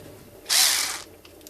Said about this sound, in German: Als nächstes muss das Gehäuse aufgeschraubt werden.